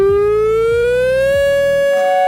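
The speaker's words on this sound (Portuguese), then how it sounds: "Cara, essa sirene aqui é importante" A loud, steady siren wails alone, its single tone slowly rising in pitch over about two seconds before cutting off abruptly.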